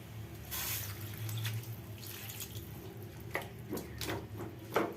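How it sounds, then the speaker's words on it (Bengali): Water pouring into a pot of yam and potato curry, a steady running stream with a few knocks and clinks of utensils toward the end, moderately quiet with no talk. "এবার আমি এর মধ্যে জল দিয়ে এটাকে দশ মিনিটের জন্য বসাবো"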